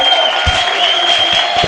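A church congregation cheers and applauds during a service welcoming a bishop, a dense, loud wash of crowd noise with a steady high tone running through it.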